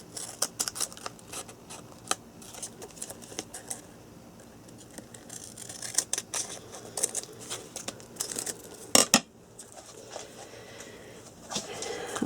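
Scissors snip and trim paper for a library pocket booklet, giving quick crisp cuts in irregular bursts with light crinkling and rustling between them, close and fairly quiet.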